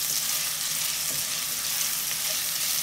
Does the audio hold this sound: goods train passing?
no